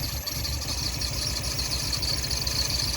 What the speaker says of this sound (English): So I have the engine running,